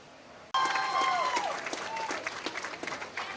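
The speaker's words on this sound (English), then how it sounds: "Nice round of applause for Peyton Reinhardt and her crew" An audience at a youth pretty pig contest breaks into applause that starts suddenly and keeps up as dense, fairly close clapping, with a voice calling out over its start.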